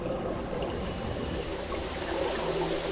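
River water in the video game Metro Last Light, a steady rushing, trickling flow that sounds close and continuous, with no talking over it.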